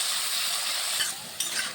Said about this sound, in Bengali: লবণ দিয়ে আলুটাকে ভালোভাবে লাল করে ভেজে নিচ্ছি